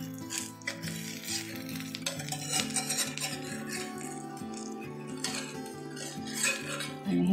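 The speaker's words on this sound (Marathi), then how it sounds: "आणि हे परतून घेते." A spatula scrapes and clatters against a new cast iron tawa while something is sautéed on it. The metallic strokes repeat steadily and close, with music playing faintly underneath.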